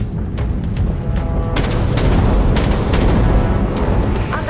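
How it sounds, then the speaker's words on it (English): A drain torpedo launches from a Trafalgar destroyer in the Dreadnought video game, a loud whooshing boom over a dense rumbling bed of weapon fire and sharp percussive cracks in a busy space battle. "Launching drain torpedo."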